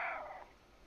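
A cat meows in the video game Stray: one short, fairly faint call at the start that fades quickly into quiet background.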